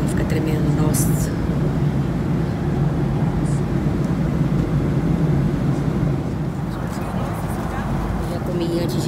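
Airplane cabin noise on a windy flight fills the clip with a steady, loud, broadband rumble and roar, unbroken and without clear talk.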